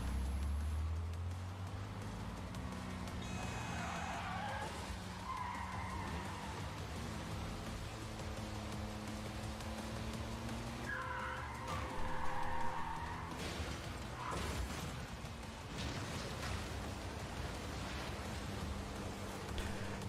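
Racing engines whine and tires skid in a video game trailer, with continuous engine tones rising and falling over a steady noisy bed, moderately loud and sustained throughout.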